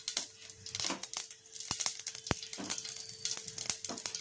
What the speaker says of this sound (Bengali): আমি তেলের মধ্যে একটু জিরা ফোড়ন দিয়ে দিলাম।